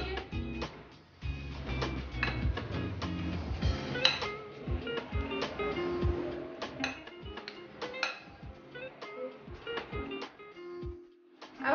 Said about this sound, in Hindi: आलू को मैश करेंगे